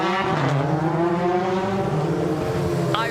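A rally car that once competed in Corsica drives on a forest rally stage, its engine loud and close with a sustained rising note and a sharp gear change near the end.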